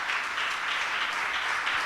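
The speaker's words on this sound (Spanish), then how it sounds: "Dale un fuerte aplauso al Señor de señores" Brief, dense applause from a church congregation during a Spanish-language sermon, an even wash of clapping at moderate volume with no talking over it.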